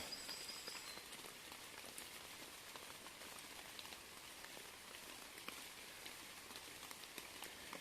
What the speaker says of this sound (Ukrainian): дощ падає